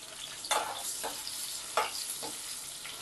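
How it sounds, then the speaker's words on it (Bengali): Potatoes with salt and turmeric frying in hot oil, a steady close sizzle broken by two louder stirring scrapes and a few softer clatters, with no talking. "এবার একই তেলে আমি আলুগুলোকে ভেজে তুলে নেব।"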